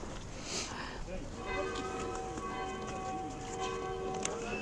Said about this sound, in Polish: O, biją dzwony, czyli godzina za 15, 10 jest?